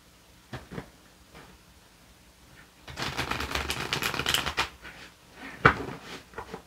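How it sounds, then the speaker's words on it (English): Tarot cards are riffled and shuffled by hand close by: a few soft taps, then a dense fluttering burst of card edges for about two seconds, followed by light slaps. "Okay, one more shuffle"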